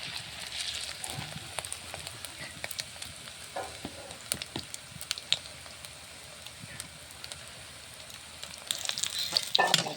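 Small puti fish fry in hot oil, a continuous crackling sizzle with scattered pops and spatters, plus clattering handling near the end as the pieces are turned.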